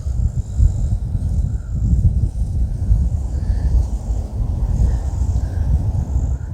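A steady, rushing roar of wind sweeps through trees at Buffer Preserve on St. Joseph Bay, swelling and easing in broad gusts, with faint bird calls high above.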